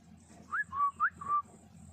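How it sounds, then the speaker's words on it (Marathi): A person whistles to call a squirrel to eat grain, four short, clear rising and falling whistle notes in quick succession, close and fairly quiet, with no talking. "तर आता आपण ना शिट्टी मारणार इथं आणि खारडीला बोलून घेणार आहे दाणं खायला."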